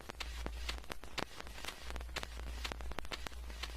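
A jazz drum kit assembled from Minecraft game sound samples, with tape delay and reverb, plays a loose pattern of quick, clicky hits over a low thump, fairly soft and without speech.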